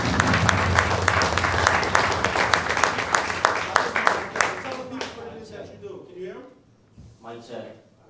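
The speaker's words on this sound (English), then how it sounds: "give a round of applause to my co-workers" An audience applauds at a real estate event, a dense burst of clapping that tapers off after about five seconds as a voice begins talking over the fading claps.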